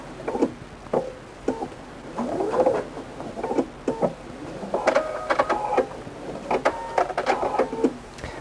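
A sewing machine stitches together a quilted velvet Christmas tree skirt, heard as short irregular bursts of whirring and clicking with gaps between them, close by and moderately loud, with no voices.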